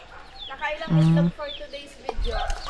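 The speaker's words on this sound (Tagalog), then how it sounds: "Anong hen to? Ay, ano yan, native na hen." A native hen clucks briefly and loudly in a farmyard among chicks, with a short tonal call near the middle, while a person talks around it.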